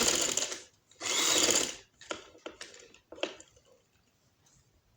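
A sewing machine stitching a trouser runs in short, quiet bursts, a longer whirring run followed by several brief stop-start spurts of stitching with pauses between.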